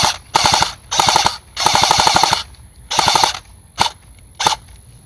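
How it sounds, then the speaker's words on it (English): An E&L AK-74MN airsoft rifle fires loud full-auto bursts of rapid mechanical clatter, four longer bursts followed by two short ones, with near silence between them. "It's like a real AK, and you know, full auto works pretty good."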